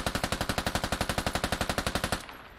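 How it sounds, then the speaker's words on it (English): M240B turret machine gun firing from a tank in the video game Squad, a loud, steady burst of about two dozen rapid, evenly spaced shots that stops abruptly and leaves a fading echo. "You can lay down a crap ton of fire with this thing."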